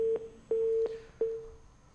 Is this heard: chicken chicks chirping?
no